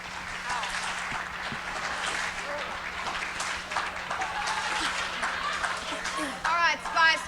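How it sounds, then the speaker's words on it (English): An audience claps and cheers at a comedy stage show introducing a Spice Girls parody act, a dense steady wash of applause with voices talking over it throughout. "Applaud the new Old Spice Girls"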